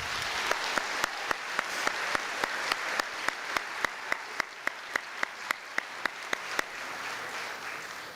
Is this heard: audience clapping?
yes